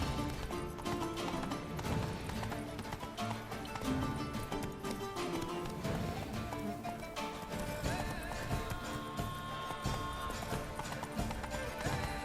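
Roach the horse gallops in The Witcher 3: Wild Hunt, a steady rhythmic clip-clop of hooves running beneath dense game music and ambience throughout.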